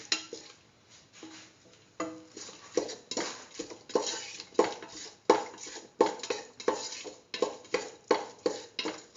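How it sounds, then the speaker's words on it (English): Stirring chili powder into a pot of potato and tomato coconut milk stew, a spoon scraping and clinking against the pot in a steady repeating rhythm, close and clear with no voices. "Thoroughly mix in the chili powder."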